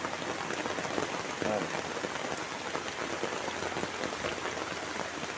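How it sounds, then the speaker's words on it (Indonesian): Heavy rain pours steadily over a village, a dense continuous hiss of drops striking surfaces close by with no break in intensity. "Makin deras hujannya sobat."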